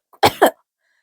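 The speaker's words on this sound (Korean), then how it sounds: "기침은 점점 심해져 갔어요" Two harsh coughs in close succession, loud and near, standing alone in an otherwise quiet moment.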